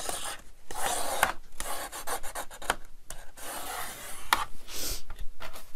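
Paper for a handmade vintage Christmas book page is burnished with steady, close rasping strokes in a rhythmic back-and-forth, with a few brief pauses and small clicks.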